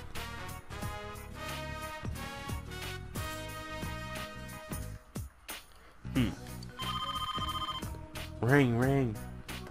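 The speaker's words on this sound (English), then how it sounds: "Phone's ringing." A phone rings in Persona 4 Golden, a repeated electronic trill heard amid game music and tones, with people talking over parts of it.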